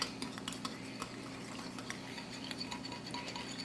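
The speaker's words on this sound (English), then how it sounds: "I'm gonna mix this with a small whisk" A small whisk beats egg with whipping cream in a bowl for scones, with quick, light rhythmic clicks and taps against the bowl. The sound is quiet and close, with no voices.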